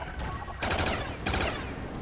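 Two short bursts of rapid automatic gunfire from an upgraded HK-21 machine gun in a zombie video game, heard at moderate volume with a pause between them.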